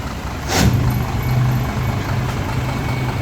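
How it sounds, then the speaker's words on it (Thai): A Nissan UD six-wheel truck idles with a low, steady diesel rumble and a brief hissing burst near the start, heard close and alone. "เสียงเครื่องยนต์นะคะ"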